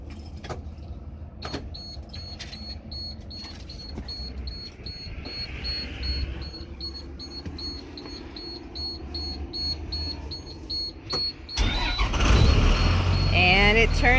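A school bus being started for a road trip: keys jangle and a warning beep sounds, then the engine cranks and catches into a loud rumble near the end, with people talking throughout.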